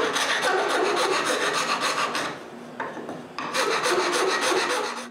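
A toothless rasp shaving wood from a wooden lid in a workshop, rapid rhythmic scraping strokes with a brief pause partway, then another burst of strokes, close and loud.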